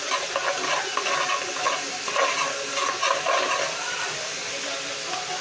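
Garlic being sautéed for a Filipino papaitan, a steady close sizzle with a few soft stirring scrapes rising briefly in the middle, alone without talk.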